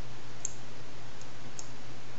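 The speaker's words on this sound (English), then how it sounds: "You just left click and drag on any particular image" Computer mouse clicks while dragging images in the Spriter animation program: two or three small, faint ticks spread over a couple of seconds above a steady low electrical hum, with no voice.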